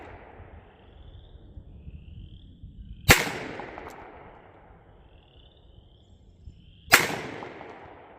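A Smith & Wesson Performance Center 986 Pro Series 9mm revolver fires two sharp, loud shots about four seconds apart at an outdoor range, aimed at a target 50 yards out, each crack trailing off in a long echo over a quiet background.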